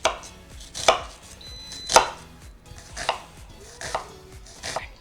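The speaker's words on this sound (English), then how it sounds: "I am also going to chop a red onion." A knife chops a red onion on a cutting board in sharp, separate strokes about once a second, close and clear with no talking.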